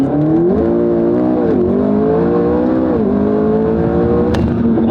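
A McLaren running on E85 fuel accelerates hard through first gear, its engine note rising loud and close in a steady, sustained pull with a couple of brief dips in pitch as it winds up.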